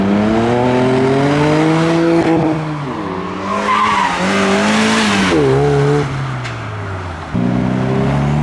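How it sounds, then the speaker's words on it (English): A turbocharged car at a traffic light after leaving a car meet does a burnout: loud, close tire squeal with the engine revving high, pitch rising and dipping as the throttle is worked, and a few abrupt changes in engine note. "Someone's doing a burnout at the lights."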